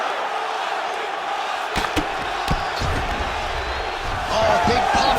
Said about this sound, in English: big pop from the crowd as they get back to their feet